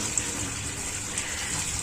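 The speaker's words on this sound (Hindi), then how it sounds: "मैं अब इससे फटाफट नल के नीचे इसको धो देती हूँ।" Cut potatoes rinsed under a running kitchen tap while cooking a Kumaoni meal, a steady close rush of water pouring for about two seconds without a break.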